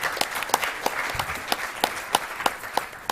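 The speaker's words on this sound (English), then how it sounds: "South Africa deserves a clap of hands for being the pioneering country" Sparse, steady claps from a small conference audience at a UNDP BIOFIN global biodiversity finance meeting, individual hand claps sounding at a slow regular beat over a quiet room for about three seconds.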